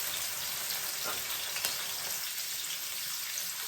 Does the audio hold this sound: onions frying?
yes